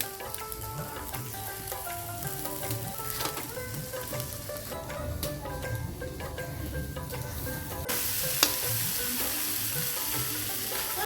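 Egg chowmein noodles stir-fry in a hot pan for street-style cooking, a steady loud sizzle with repeated scraping and tossing strokes, brief clinks of a utensil, and the frying growing slightly louder near the end.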